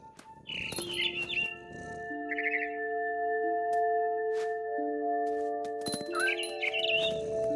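Bird chirps and tweets from the video game What Remains of Edith Finch sound in short bright bursts at the start and end, over sustained tonal game music with no voices.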